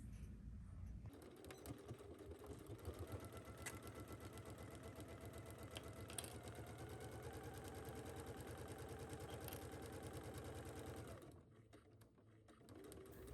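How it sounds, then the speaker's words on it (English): A sewing machine stitches a 5/8-inch seam on a McCall's 8604 garment, a steady fast mechanical whirring with rapid needle clatter that runs near and unbroken for about eleven seconds, then stops. "We are going to take this to our sewing machine and sew this down at 5/8."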